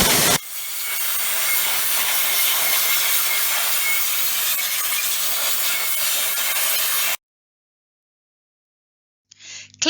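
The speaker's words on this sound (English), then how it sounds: "Using compressed air carefully but thoroughly, blow away all the dust and dirt from in between the fins of the condenser." Compressed air blasts a loud, steady rushing hiss through the dusty condenser fins of a slush drinks machine, stopping abruptly into silence before a short faint rattle at the end.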